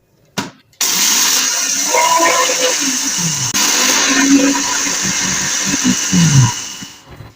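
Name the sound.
mixer grinder grinding spices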